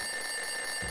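An alarm rings in the Edna bricht aus adventure game, a loud, steady, high-pitched electric bell tone sounding continuously for the whole moment.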